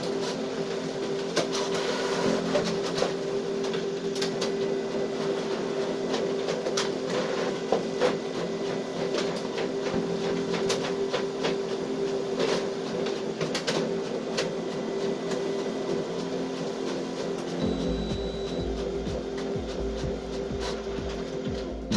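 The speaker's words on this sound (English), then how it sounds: "Let's see again both devices simultaneously copying two-sided original" A Canon laser printer and a Canon inkjet printer run side by side copying two-sided originals, giving a steady, continuous mechanical hum with faint clicks throughout and a shift in the low rumble toward the end.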